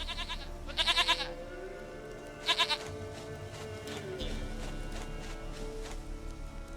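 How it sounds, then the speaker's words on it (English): A goat in The Witcher 3: Wild Hunt gives two short, close, quavering bleats about a second and a half apart over a low ambient bed. "Goat of mine, dearest,"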